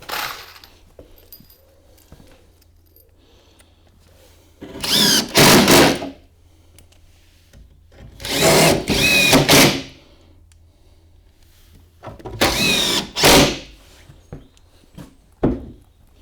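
Power drill driving screws into a stair riser during a bullnose stair kit installation, three separate bursts of whirring with pauses between, fairly close, over a quiet room.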